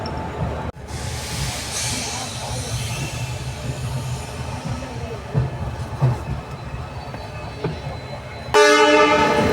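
A train rumbles steadily at Hubli railway station in Karnataka with a low mechanical drone, then a loud horn blast near the end.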